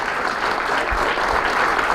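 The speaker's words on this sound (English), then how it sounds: "let's have a great big Alamo round of applause" An audience applauds Robert Brian Wilson after a Silent Night, Deadly Night Q&A in Texas, a steady dense wash of clapping from the whole room that stays loud and even for the full two seconds.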